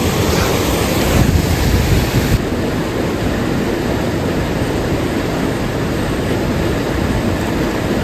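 Water rushes continuously from an outdoor waterfall, a dense, loud and unbroken roar that holds steady throughout, with no voices.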